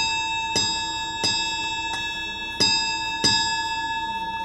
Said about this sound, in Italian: Le campane della chiesa segnano il nono rintocco.